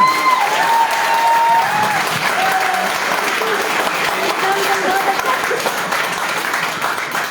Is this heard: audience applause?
yes